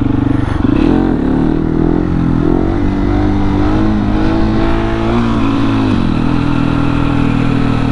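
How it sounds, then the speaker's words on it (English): Motorcycle engine revving loudly and steadily as the throttle is cranked hard during a wheelie on a 701, a close, continuous roar with rising and falling pitch. "I was just like cranking the throttle, dum, dum, dum, dum, dum"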